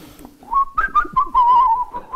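A person whistles a wavering, tuneful melody with short gliding notes, close and fairly loud, with no talking.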